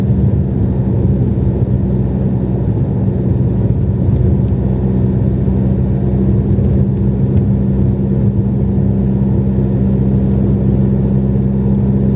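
A car engine drones steadily and loudly from inside the vehicle while driving on a snowy road in Kastamonu city centre, a continuous low rumble with no breaks and no talk.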